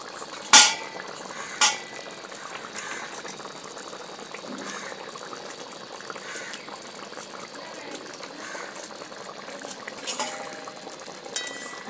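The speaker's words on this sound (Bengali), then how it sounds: "মাছটা দিয়ে আমি 1-2 মিনিট এইভাবে ফুটিয়েছি" Bengali halua fish curry simmering in a pan, a steady soft bubbling hiss throughout with a couple of sharp clinks near the start and scattered small ticks of stirring.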